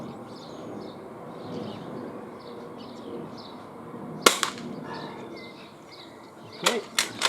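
An Umarex MP7 spring airsoft pistol fires at paper targets at 15 meters outdoors: one sharp snap, then a quick cluster of three more cracks a couple of seconds later, with birds chirping faintly in the background.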